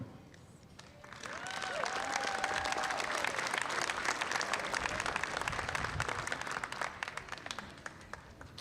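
Crowd at a 2024 university business school graduation ceremony breaks into sustained, full applause with a few cheers and whistles, rising quickly and holding strong for several seconds before easing slightly.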